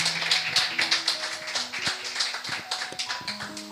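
A church congregation applauds to welcome a pastor, a dense wash of clapping with sustained music tones underneath, lively and continuous throughout.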